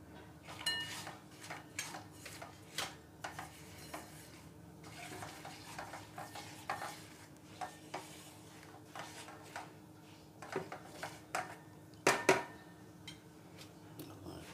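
Cashews stirred and fried in a pan while making paneer masala: repeated scraping stir strokes and clinks of a spoon against the pan over a soft, steady sizzle, with a sharper clatter near the end.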